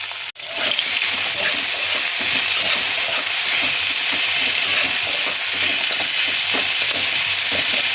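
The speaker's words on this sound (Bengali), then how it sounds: "আর একটা এইভাবে পেঁয়াজ একটু ভাজা ভাজা হয়ে যাক" Chopped onions frying in a pan with bay leaf, a steady close sizzle with occasional stirring scrapes throughout, no talking.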